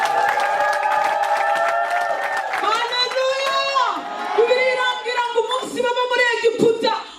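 A church congregation breaks into high, trilling ululation in praise of God, loud and sustained amid crowd cheering, with the warbling cries growing more broken and excited toward the end.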